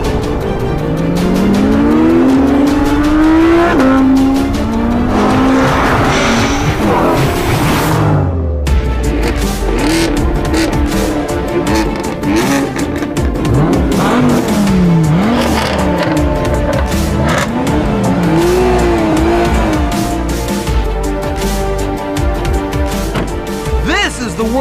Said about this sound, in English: This is the world's greatest drag race 6.